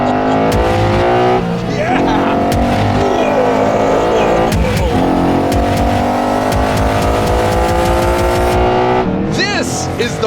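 A 2024 Ford Mustang Dark Horse V8 racing alongside a BMW, its engine roaring loud and close with a steady, rising harmonic drone that swells and dips as it accelerates hard.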